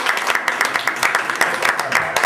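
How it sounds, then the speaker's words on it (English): A short burst of audience applause at a recorded public conversation, a dense patter of clapping that holds steady and is fairly loud throughout. "I think we gotta applaud for that"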